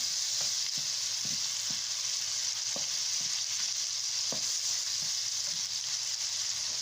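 Fatty pork sizzles in plenty of oil in a pan, a steady bright hiss with scattered spatter pops and light stirring taps, alone without voices.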